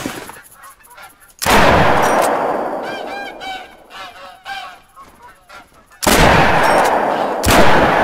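Gunshots at a shooting range in the hunting game theHunter: Call of the Wild, with three loud close blasts, each followed by a long decaying echo. Goose-like honking calls can be heard between the shots.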